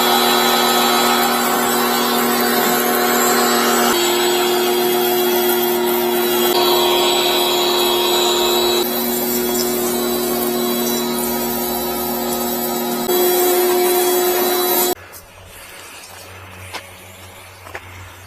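A Mrliance 3000 psi, 3 gpm electric pressure washer runs with a steady, loud motor drone and buzz for about fifteen seconds, then cuts out abruptly, leaving only faint background sound.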